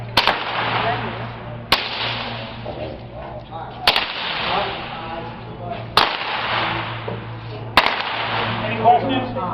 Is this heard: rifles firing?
yes